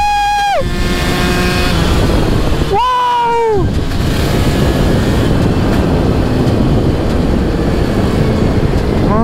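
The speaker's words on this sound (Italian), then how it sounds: "Cioè, sentite come prende i giri!" Vespa 50 Special fitted with a 144cc kit engine revs hard twice in quick succession, each a sharp rising-then-falling two-stroke wail up close, followed by a loud continuous engine drone.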